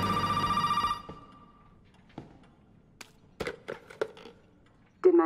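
A phone rings in the video game Resident Evil 7, a loud electronic ring that cuts off after about a second, then sparse clicks and clunks of in-game movement follow in a quiet scene.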